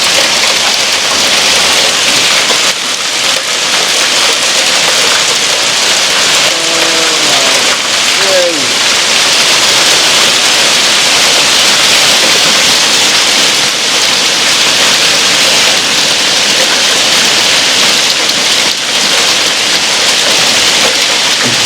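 Ice pouring down like rain after Hurricane Melissa, a loud, dense, continuous hiss and patter that fills the whole stretch, with a brief faint voice-like murmur partway through.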